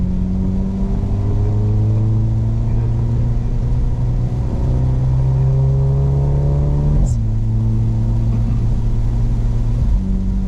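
Close, steady engine drone from a Mercedes SL45 on a track at Harris Hill Road, climbing gradually under throttle before a sharp gear shift partway through, then pulling on again.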